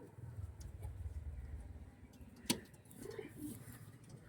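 Faint pigeon coos come in low and soft toward the end, with one sharp click midway and a murmuring background, no voices nearby.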